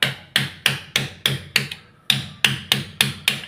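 A broken kitchen sink tap piece is tapped out with about a dozen sharp metallic knocks in a steady rhythm, close and clear, with a short pause midway.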